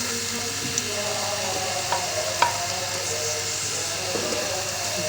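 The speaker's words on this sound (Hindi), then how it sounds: "प्याज को थोड़ा सा भून के मसाला बनाएंगे।" Onions frying in about half a cup of oil for a potato bhujia, giving a steady, close sizzle with faint stirring clinks and no talk.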